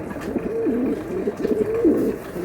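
Pigeons coo steadily at a market where the birds are sold. Several close, throaty rolling calls overlap and repeat without a break.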